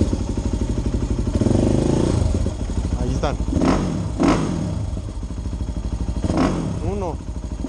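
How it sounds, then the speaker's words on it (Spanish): Motorcycle engine running inside a bat cave, a steady close mid-pitched drone throughout with revving swells, while voices speak over it near the end. "Vamos a arrancar la moto para que salgan los murciélagos."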